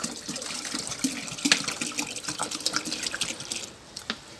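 Water pours and splashes into a container, a close, uneven trickling stream with small gurgles and drips, fading near the end.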